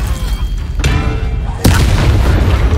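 Confringo fire spell blasts during a Hogwarts Legacy duel, two loud booming explosions about a second apart, each with a sharp onset and rumbling tail, close and forceful.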